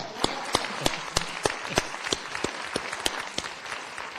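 A round of applause from an audience at a college chancellor's opening session, with a wash of many hands clapping and sharp individual claps standing out at a steady rhythm.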